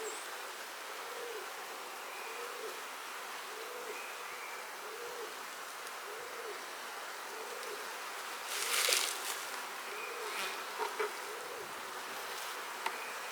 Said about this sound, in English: A bee emerging right there.